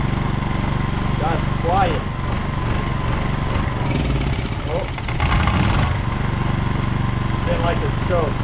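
A small Honda EX1000 portable generator runs with a steady, fairly quiet engine drone, heard up close, while a person talks over it at intervals.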